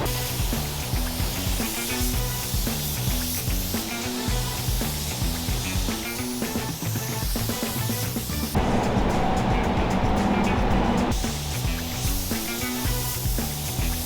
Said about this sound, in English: we're gonna get our first coat of base put down on this